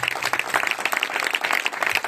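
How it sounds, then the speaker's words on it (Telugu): A church gathering audience claps loudly, a dense, rapid patter of many hands in a sustained burst with no voices over it. "కొట్టు గట్టిగా చప్పట్లు"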